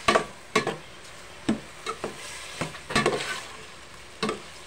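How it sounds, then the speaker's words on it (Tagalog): Beef offal and ginger sauté in a pan for papaitan, a low sizzle punctuated by irregular scraping strokes of a spatula, close and fairly quiet. "Sangkot siya muna natin guys para lumasa yung mga luya."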